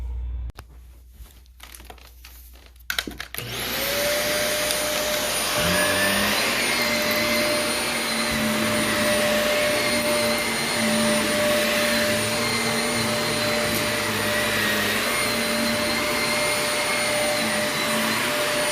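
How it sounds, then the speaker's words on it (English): A vacuum cleaner runs on carpet during a carpet-cleaning job, starting after a few seconds of quiet handling and then holding a loud, steady drone with a constant whine for the rest of the time, nobody talking. "we're going to continue into the vacuuming part"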